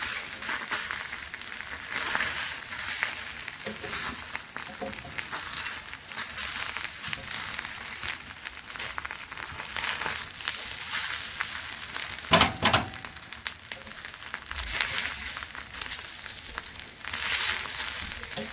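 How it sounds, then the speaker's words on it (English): An egg fries on a tortilla in a pan, a faint, steady sizzle that runs throughout with occasional soft scrapes as it is moved around, and one brief louder knock near the middle. "I'm just going to move it around until the egg is cooked"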